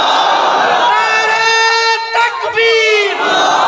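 Loud crowd shouting the takbir slogan in unison at a madrasa gathering, a sustained roar of many voices with a brief dip in the middle before the chant swells again.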